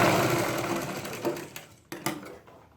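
A sewing machine stitches a seam on a Punjabi-style trouser or pajama, whirring steadily at first, then slowing and fading into a few short, separate bursts before stopping.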